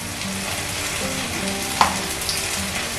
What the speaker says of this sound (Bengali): এইভাবে আমি কয়েকটা পাউরুটি প্রথমে ফ্রাইং প্যানের মধ্যে দিয়ে দিচ্ছি।